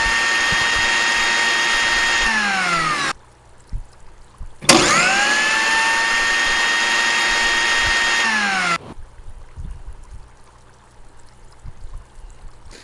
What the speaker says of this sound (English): That is a blender.